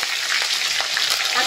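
Chopped tomato and green chili sizzle briefly in a hot pan with ginger paste, a bright dense crackling hiss that stays steady and close.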